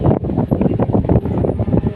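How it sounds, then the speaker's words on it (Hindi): Strong 35–40 km/h wind buffets the microphone in an open outdoor kitchen, a loud, rough, gusting rumble that sounds close, with a muffled voice faintly under it. "बहुत ज़बरदस्त किस्म की तेज़ हवाएं चल रही हैं"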